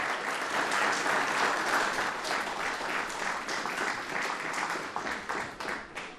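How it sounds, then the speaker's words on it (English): An audience at a police department awards ceremony applauds two local pizzeria owners, a full, dense burst of many hands clapping that holds steady, then thins and fades toward the end. "Yes, you can applaud."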